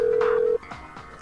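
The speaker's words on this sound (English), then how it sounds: "We're like putting a phone call in." A phone call being placed in the video game Persona 3 Portable: one steady electronic tone holds, then stops, followed by a few short, soft beeps, clear and close with no voices.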